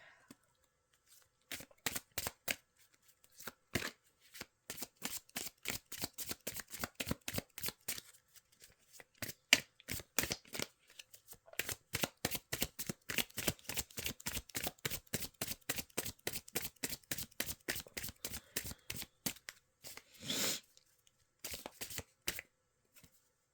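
A deck of meditation cards is riffle-shuffled again and again, close and crisp, in a fast run of rhythmic flicks with a few short pauses between bursts.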